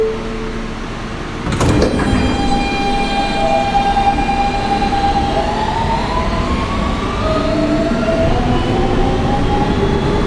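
Onboard a Kawasaki R160B-2 Siemens subway train on the R line in New York, a steady rumbling ride with a sharp clank near the start, then rising whining motor tones sliding upward as the car accelerates.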